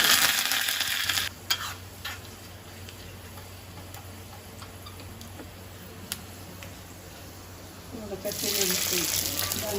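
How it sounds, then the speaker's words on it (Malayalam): Mustard seeds, curry leaves and chili dropped into hot oil, with bursts of crackling sizzle at the start and again near the end and a quieter hiss and steady low hum between. "ഓയിൽ ചൂടായിട്ടുണ്ട്. നമുക്ക് കടുക് ഇട്ട് കൊടുക്കാം"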